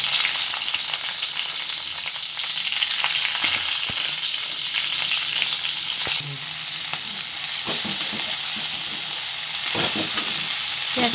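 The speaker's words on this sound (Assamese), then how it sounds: "এতিয়া ভজা মাংসৰ তেলখিনিতে মই পিঁয়াজ দি দিলোঁ।" Sliced onions fry in the oil left from browning mutton for a homestyle mutton curry, making a loud, continuous close sizzle with occasional stirring scrapes.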